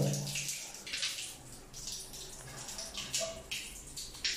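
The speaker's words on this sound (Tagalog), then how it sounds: "So, ito yung gripo, gumana naman dito." Water running steadily from a lodge faucet in Baguio City, a close, hissing splash with some gurgling fluctuation, no voices.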